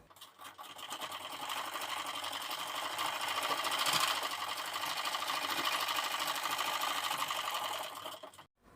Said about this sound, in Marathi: तर या ठिकाणी आपण या पट्टीला दाब शिलाई देऊन घेतलेली आहे।